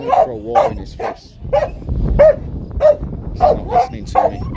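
A dog named Georgie barks loudly and close by in a string of sharp, repeated barks and yips, with brief whimpering between them and no speech.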